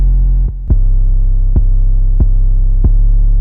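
An 808 bass sample in a beat holds a loud, continuous low droning bass with several soft periodic thumps pulsing through it, played alone with no voices.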